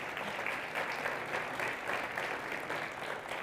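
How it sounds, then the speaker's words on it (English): A full audience applauds steadily and loudly throughout, a dense continuous wash of clapping at a startup pitch stage at South Summit 2023 as the next company's co-founder is welcomed. "Big applause."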